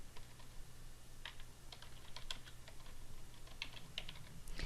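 Keystrokes on a computer keyboard as a search term is entered, a run of light, quiet clicks at an uneven pace over a low steady hum, with no voices.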